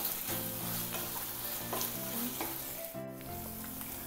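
Mushrooms and sauces are stirred together in a sizzling pan for a restaurant-style chilli mushroom starter, with steady frying hiss and rhythmic spatula scrapes close by, and no talking.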